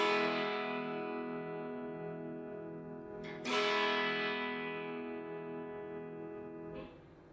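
An electric guitar with effects plays the intro of a song: long sustained, ringing chords with a fresh strum partway through, fairly quiet, then decaying at the end, with no talking.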